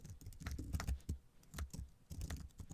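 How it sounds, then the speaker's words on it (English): Quiet, clicky keystrokes on a computer keyboard come in short irregular bursts with small pauses between them, close to the microphone and faint overall, with no talk. "Now let's start typing the elimination stage."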